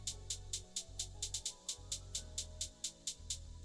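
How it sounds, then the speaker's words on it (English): A quiet, simple two-step hi-hat pattern for an R&B beat ticks steadily over a low, soft bass bed, the crisp hits evenly spaced with a small bounce. "Next we got a regular two-step hi-hat pattern."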